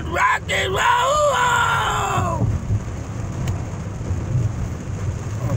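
Heavy downpour during a thunderstorm, with a steady hiss of rain and a low rumble of thunder running under it; someone shouts excitedly over the start before his voice drops out.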